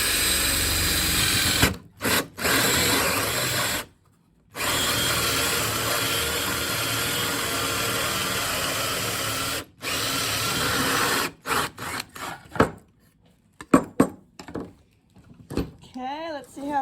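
A power drill test-drills into wood, a loud continuous whirring in long bursts broken by short pauses, then a few brief stuttering pulses and clatter near the end.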